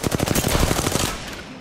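Rapid automatic gunfire in a shooting video game, a fast burst of close, loud shots in tight rhythm that ends abruptly, followed by a fading echo.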